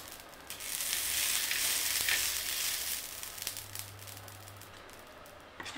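Oil hisses in a steady, soft sizzle on a hot griddle heated for chilla, the sound swelling a little and then easing as it goes on, with no voices.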